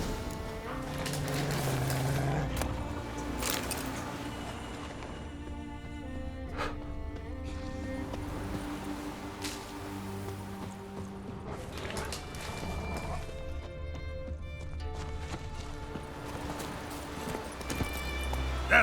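Roach the horse from The Witcher 3 trots with steady clip-clop hoofbeats and gives a neigh, layered over game music and ambience at moderate level for the whole stretch.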